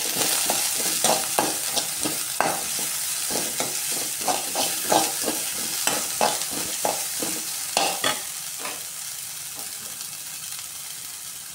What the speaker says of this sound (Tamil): கூடவே பொடியை கட் பண்ணி வச்ச பூண்டு 1/5 பல், இஞ்சி 1 சின்ன பீஸ் சேர்த்து நல்லா வதக்கணும்